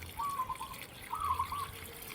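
Plain drinking water poured into a cooking pot gives a short, soft trickle in two brief bursts, faint and close.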